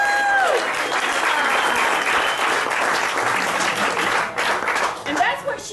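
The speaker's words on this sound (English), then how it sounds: "so give her a round of applause" Meeting audience giving a round of applause for a first-time speaker, dense sustained clapping that briefly overlaps a voice at the start and thins near the end as talk returns.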